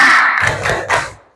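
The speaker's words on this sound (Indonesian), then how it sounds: "Tepuk semangat." A classroom of young children doing a rhythmic spirit clap, a short, loud burst of thumping claps and shouted voices together, close by.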